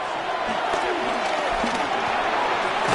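A football video game stadium crowd roars steadily throughout, a dense, continuous wall of cheering noise with no clear breaks, building tension ahead of a third-down play.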